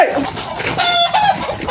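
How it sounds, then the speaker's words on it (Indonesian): Chickens and roosters crow and cluck at once in a busy, overlapping chorus, with a drawn-out crow in the middle and sharp clucks scattered around it, all loud and close. "Semua ayam berteriak."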